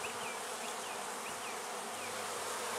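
A swarm of bees buzzes steadily and close, a dense continuous drone with individual insects whining past now and then.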